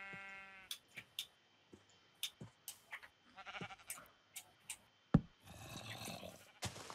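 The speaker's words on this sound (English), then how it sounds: "Two sheep." Two sheep bleat in the video game Minecraft, short blocky cries repeating in uneven bursts alongside game clicks and knocks, fairly close and clear with no talk over them.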